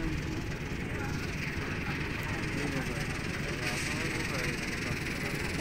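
A motorized engine boat on a river in Sylhet, near the Indian border, drones with a steady, loud mechanical rumble mixed with wind and water noise, continuous throughout.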